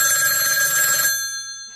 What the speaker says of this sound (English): Sir, or sir/ma'am, do not answer this phone call.